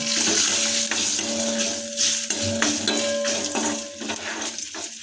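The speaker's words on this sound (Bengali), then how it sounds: "এখন আমরা এই সমস্ত উপকরণগুলোকে ভালোভাবে হাতা দিয়ে নাড়িয়ে দেব" A ladle stirs kasuri methi in hot oil in a kadai on a low flame while cooking egg tadka, giving repeated scraping strokes over a soft sizzle and a faint steady hum, with no talking.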